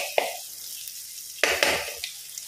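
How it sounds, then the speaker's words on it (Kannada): Fenugreek seeds frying in hot oil for a squid munchi gassi, a soft continuous sizzle with a brief burst near the start and a louder crackling surge toward the end, close by with no talk. "ಮೆಂತೆ ಸ್ವಲ್ಪ ಫ್ರೈ ಆಗಲಿ."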